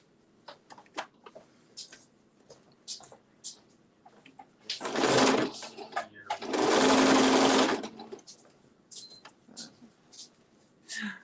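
Sewing machine stitching hooded beach towels in two loud, fast-running bursts of several seconds each, separated and surrounded by quieter handling clicks and rustles.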